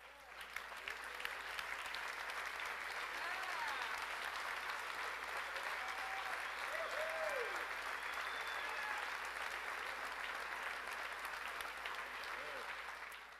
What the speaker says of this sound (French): Mesdames et messieurs, applaudissez-le chaleureusement.